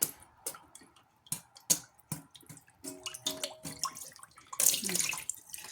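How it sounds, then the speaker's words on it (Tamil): Tap water runs and splashes while a vessel is rinsed out after grinding adai dosa batter, with scattered drips and clinks building to a louder rush of pouring water near the end. "அலாசி, அப்படியே அலாசி விடு. கீழே ஊற்றிடு."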